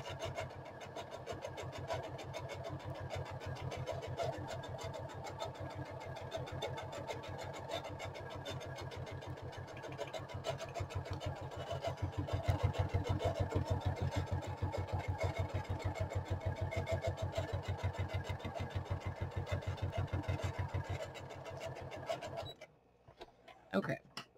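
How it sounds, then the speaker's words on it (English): A sewing machine stitches around the outside of a notebook made from gift boxes, its needle running in a fast, even mechanical rhythm for a long stretch before stopping abruptly. "I'm going to stitch this on the outside, okay?"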